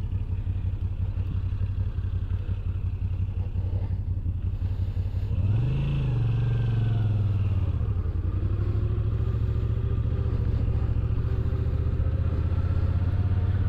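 A Moto Guzzi V9 Roamer motorcycle being ridden, its engine thrumming steadily up close, then revving up and dropping back before settling into a steady cruising drone, with no voices.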